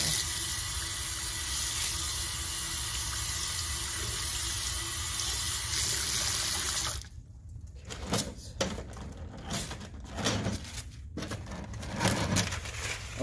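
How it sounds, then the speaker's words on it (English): Tap water pours steadily into a sink during handwashing while preparing fresh pasta dough, loud and continuous for about seven seconds, then cut to quieter clatter and bumps. "you always want to wash your hands really well"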